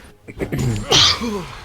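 A single sharp sneeze bursts out after a brief indrawn breath, close and loud, followed by a short voiced murmur.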